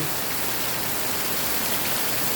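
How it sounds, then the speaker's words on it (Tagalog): Heavy rain pours down steadily near banana plants beside a small waterfall, a dense unbroken hiss of water that stays loud and even throughout with no talking. "lakas po ng ulan, no?"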